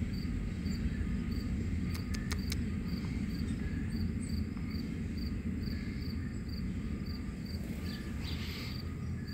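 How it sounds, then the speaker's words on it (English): Bees and assorted bugs buzz around nectar-rich garden flowers in a steady, faint outdoor hum, with a few brief sharp ticks and no talking. "Bees and all kinds of bugs love these flowers."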